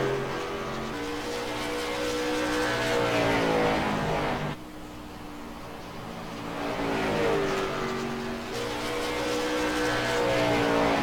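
A late model race car laps Bristol in the Fascar sim racing game, its engine droning loudly and steadily with rising and falling pitch as it revs through the turns, dipping briefly midway before surging again, with no talk over it.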